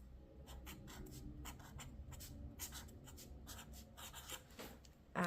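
Pen & Gear highlighter writing in a planner: quick, close scratchy strokes in short irregular bursts, soft and alone with no talk.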